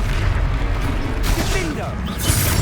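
A Confringo fire spell blasts during combat in the video game Hogwarts Legacy. Dense, loud booming and rumbling impacts continue without a break, mixed with battle noise and a voice underneath.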